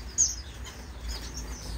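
Pet finches in an indoor bird room give faint, scattered high chirps over a quiet background, one sharper tweet near the start.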